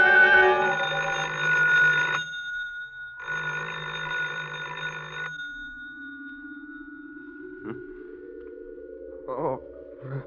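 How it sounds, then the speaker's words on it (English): An old-fashioned telephone rings in two long bursts in a vintage radio drama, followed by a sliding musical tone and brief chimes, fairly loud and clear. "I thought I heard the phone."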